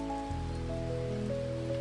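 Falling rain under a low sustained tonal drone, the steady wash of drops forming a soft, even bed throughout.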